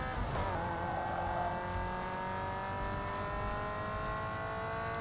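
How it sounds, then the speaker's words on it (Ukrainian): Steady engine whine of racing cars in the video game Need for Speed Underground 2, pitch slowly rising and shifting, continuous and moderately quiet, no voices. "Ось так ми ганяємося."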